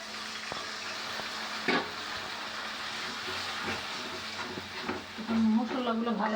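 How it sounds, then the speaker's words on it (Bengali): Chili and turmeric powder frying in a pan with spices, a steady close sizzle with occasional stirring scrapes and clinks, and someone talking faintly now and then. "মশলাগুলো ভালো করে কষিয়ে নিব"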